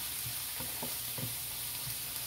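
Swiss red chard stir-frying in a pan, a steady low sizzle with several soft scraping stirs spaced through it, close and fairly quiet, no voices.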